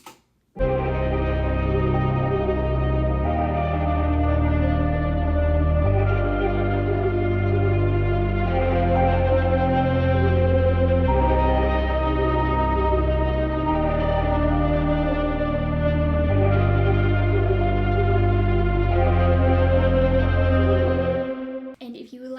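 Sustained sung vocals drenched in reverb with a wavering, pulsing tremolo, layered over a full musical backing that holds steady before cutting off at the end.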